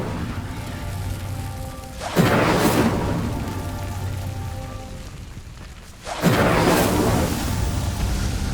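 The Incendio spell lighting pyres in Hogwarts Legacy: two loud whooshing bursts of flame a few seconds apart over a steady ambient background.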